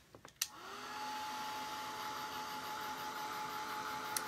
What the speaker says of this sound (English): My other dryer, it's louder, but it has a cooling button that I usually push and cool it down beforehand.